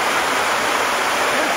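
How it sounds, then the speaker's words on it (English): A small waterfall in a foggy forest setting rushes with a steady, dense broadband hiss, close and unbroken throughout. "It's a nice little waterfall."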